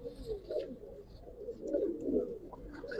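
Giribaz pigeons of the Palla line, old-breed silver and coloured birds, coo steadily in soft low rolling calls, several overlapping near the listener, with faint higher chirps above.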